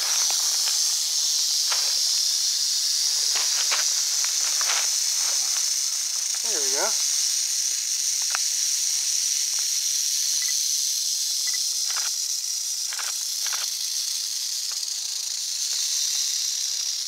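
An Eastern diamondback rattlesnake in the Everglades gives a sustained, dry, high-pitched buzzing rattle that runs steadily throughout, with light rustling and a short spoken remark.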